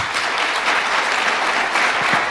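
Steady applause fills an assembly hall of the Spanish Football Federation, a dense continuous clapping from a large seated audience with no pauses.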